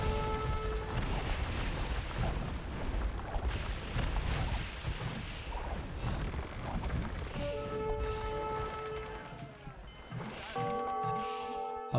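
Cannon galleons fire in a real-time strategy game naval battle, a dense stream of booming shots and crashes layered with game tones and chimes, steady and moderately loud throughout.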